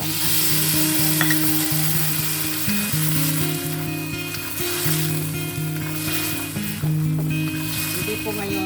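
Taro and mixed vegetables sauté in a pan with a loud, steady sizzle throughout, under a continuous tonal hum, with occasional stirring scrapes.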